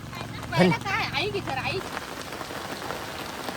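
Heavy rain pours without pause, a constant broad hiss of drops on surfaces, with a person talking over it at first before the downpour carries on alone.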